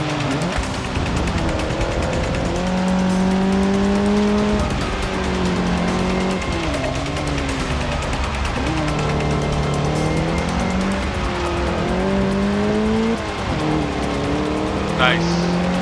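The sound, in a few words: race cars in the video game Forza 6 Apex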